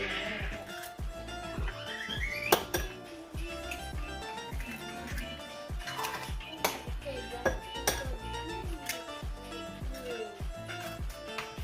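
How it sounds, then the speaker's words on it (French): Eggs are beaten in a bowl with a utensil, giving rapid irregular clinks and taps against the dish, while vegetables cook nearby in a home kitchen. "je vais juste écraser mes œufs"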